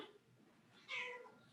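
A cat meows once at close range, a bright rising-falling cry of about half a second, standing out over a quiet room.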